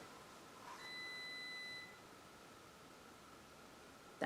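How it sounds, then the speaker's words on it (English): A coffee pot beeps once, a faint, thin, steady electronic tone lasting about a second, followed by quiet hiss and a brief click at the end. "That was my coffee pot beeping."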